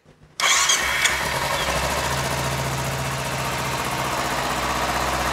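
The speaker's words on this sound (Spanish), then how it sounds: "Vamos a prenderla para confirmar el nivel de aceite." After a moment of near silence, a Kawasaki Z250 motorcycle engine cranks and catches abruptly, then settles into a steady, loud idle up close.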